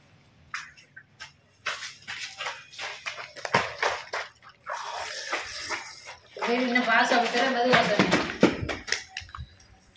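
During a village Pongal festival game, water splashes and trickles into a cup amid scattered clatter, under lively talk and shouting from people nearby.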